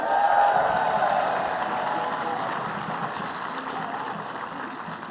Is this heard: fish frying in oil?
no